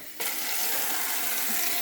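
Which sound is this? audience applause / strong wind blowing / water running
water running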